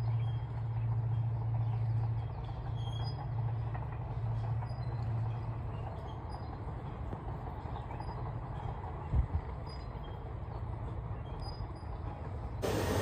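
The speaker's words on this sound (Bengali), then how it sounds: "ওই শিলচরের ট্রেন যাইতেছে" A passenger train bound for Silchar passes at a distance, heard as a steady low rumble and clatter that holds evenly throughout, with a faint thump near the end and no talking.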